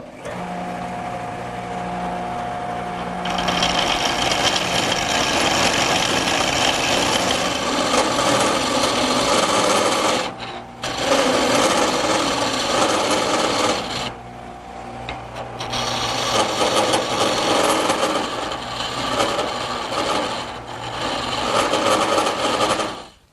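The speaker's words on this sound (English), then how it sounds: "use a gouge on the tool rest, and up here at this point I want to just make it round" A wood blank being roughed round on a lathe with a gouge resting on the tool rest, giving a steady loud scraping, cutting roar that drops out briefly at a couple of points before resuming, with no talking.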